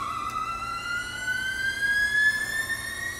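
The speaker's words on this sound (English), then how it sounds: "Now we're spooling up that generator." An aircraft generator driven on a dynamometer spools up, giving a steady whine that rises slowly in pitch over a low mechanical hum, moderately loud and continuous, with no talking.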